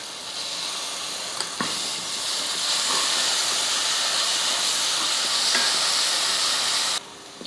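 Onions fry in a pan with ginger garlic paste for biryani, giving a steady, close sizzle and hiss that runs throughout, with a couple of brief stirring clicks.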